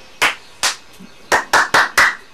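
Hands clapping in a quick, uneven sequence of about seven sharp, close claps, two spaced out and then a tighter burst, with no voices.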